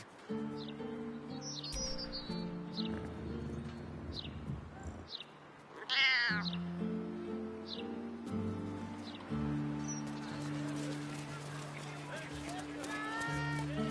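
Several short cat meows from Baldur's Gate 3, scattered over steady game music, with one louder cry near the middle and high chirping tones near the end.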